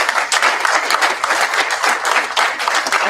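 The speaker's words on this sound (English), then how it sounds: "Give them a round of applause." Audience applause at a New Jersey District 12 candidate forum: a dense, steady wash of many hands clapping, loud and sustained throughout with slight swells.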